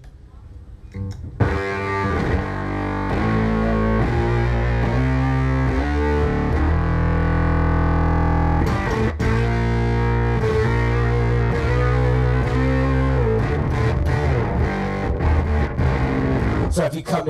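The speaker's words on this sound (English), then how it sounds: "here's the Vic Commander on bass." Bass guitar played live through an EarthQuaker Devices Bit Commander octave synth pedal at EarthQuaker Day 2018, producing loud, gritty, distorted synth-like bass lines with sustained notes and choppy riffs, continuous and up front.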